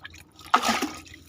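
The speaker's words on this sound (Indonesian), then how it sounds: "ini kita tinggal siram dengan air" Water splashing onto soil while chili seedlings are watered, a short soft burst of dripping and squishing liquid, close and fairly quiet, with no talking.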